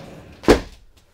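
Door of a 2015 Outdoors RV Wind River 250 RLSW fifth wheel trailer opening or closing, a single sharp close thud that quickly fades.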